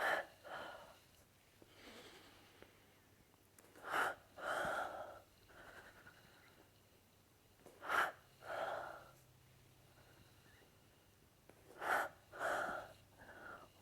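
Slow, paced breaths during a yoga spinal twist come in soft, regular pairs of inhale and exhale roughly every four seconds, quiet and close.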